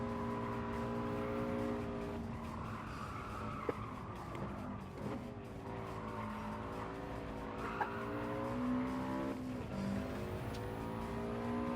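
Race car in the Gran Turismo 7 video game, Spec III weekly challenge, a steady engine drone with rising and falling revs through gear changes and brief tire squeal in corners, continuous and fairly close, no talk.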